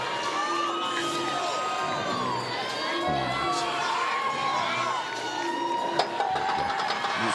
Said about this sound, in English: That's his partner in the back, Canada's strongest woman, cheering him on.